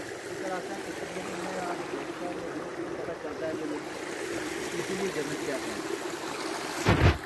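Fast-flowing spring water in a mountain stream in Azad Kashmir, a constant rushing wash under a man's speech, ending with a short sharp bump.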